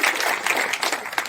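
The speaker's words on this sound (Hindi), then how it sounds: "तो एक बार जोरदार ताली" Applause from an audience at a political meeting in Bihar, a dense burst of clapping that carries steadily through the whole moment without any voices.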